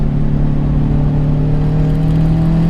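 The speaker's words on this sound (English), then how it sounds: "I hear my exhaust and your exhaust." A steady, loud engine drone with a deep low rumble from a modified 500 bhp Subaru Forester's exhaust humming at constant revs, heard from a car driving behind, continuous throughout with no voices.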